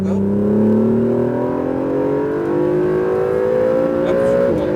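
An Acura NSX accelerates hard on a Las Vegas race track, its loud engine note climbing steadily in pitch as it pulls through the gear, heard close from inside the car.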